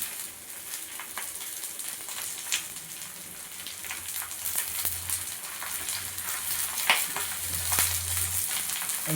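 Oil sizzles in a pan while rekoch cooks, a dense, continuous crackle close by with scattered sharper pops and no talking.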